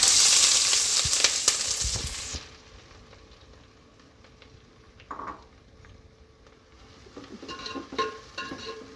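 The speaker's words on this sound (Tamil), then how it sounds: "வெங்காயம் வந்து எப்பவுமே நல்லா ஒரு டார்க் ப்ரௌன் கலர் ஆகிற வரைக்கும் நல்லா வறுக்கணும்" Onions and green chillies with cinnamon, cloves and cardamom frying in ghee and oil for mushroom biryani, a loud hiss as they hit the pan that drops to a quiet sizzle, then returning stirring clatter.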